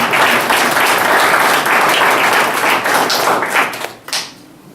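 Audience at a book presentation applauds a welcomed guest with loud, close, dense clapping that carries steadily, then thins into a few last claps and fades out.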